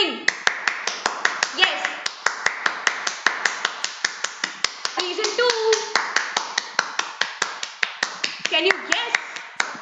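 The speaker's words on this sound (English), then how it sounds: "I request point in time to just smile and start clapping" One person claps their hands in a sharp, steady, rapid rhythm close by, with a voice speaking over the clapping throughout.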